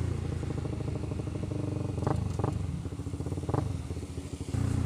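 Honda CBR 150R motorcycle engine running steadily while riding in town, a close mid-pitched drone with brief throttle blips and clatter, no talk.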